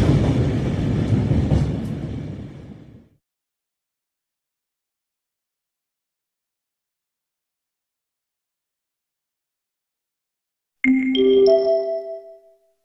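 A train rumbles loudly at a railway station for a few seconds and cuts off into silence, then a bright multi-tone station chime rings out.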